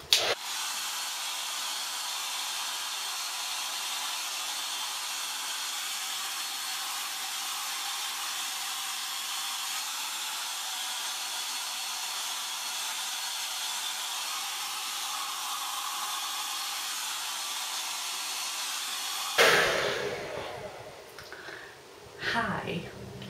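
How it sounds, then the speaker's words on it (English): A hair dryer blasts steadily on fine, bob-length hair, a loud continuous whooshing roar that cuts off near the end and leaves a few soft rustles. "blasting my hair with the hairdryer"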